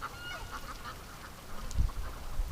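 Several ducks quack faintly in a rapid chattering series in wet weather, somewhat distant, over a low rumbling wind-like background.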